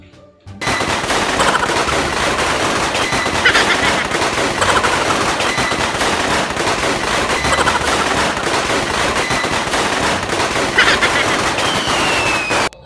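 Firecrackers are set off during a New Year celebration, a dense, continuous barrage of rapid loud pops and crackles lasting over ten seconds without letup.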